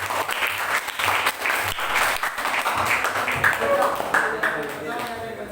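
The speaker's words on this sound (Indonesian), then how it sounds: "Tepuk tangan dulu untuk kelompok." Applause for a student group during a biology class presentation, several hands clapping unevenly and fairly close for a few seconds, with light voices mixed in.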